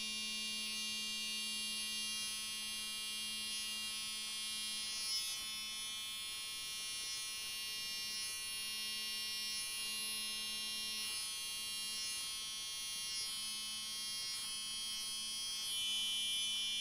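Electric hair clippers buzz steadily and close up throughout a self-cut skin fade, with a constant motor hum and a faint rhythmic pulsing as the blade moves in and out.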